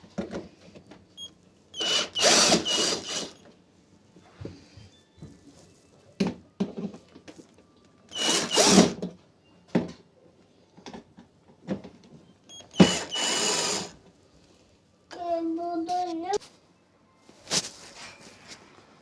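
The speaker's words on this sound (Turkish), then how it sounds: "Buradaki cıvataları hepsini söküyoruz." A power drill removing the bolts from a dishwasher door during a lock repair, several short bursts of whirring spaced apart with quiet gaps and small handling clicks between them, close by, no talk.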